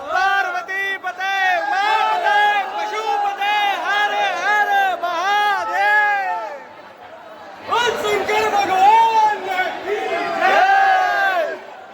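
A dense crowd of pilgrims queueing for darshan at Mahakal Lok in Ujjain chants and shouts together in loud rhythmic waves, pausing briefly before surging again close by.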